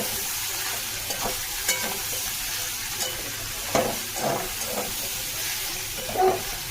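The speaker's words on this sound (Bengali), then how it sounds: "ব্যাস এইভাবে আমি খানিকটা জল দিয়ে দেবো।" Curry fries and sizzles steadily in a pan as water is added, with a continuous hiss under occasional stirring scrapes and soft clinks.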